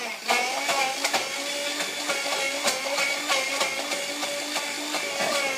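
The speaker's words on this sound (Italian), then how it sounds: "Frullatore ad immersione e vai." An immersion blender whirs through rocket pesto with a steady, loud motor drone, its pitch wavering and clattering with repeated sharp knocks as the blade works the mixture.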